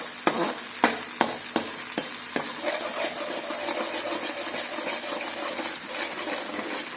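Butter sizzles steadily in a pan while homemade ghee cooks, opening with several sharp stirring knocks before settling into a continuous close frying crackle with no voices.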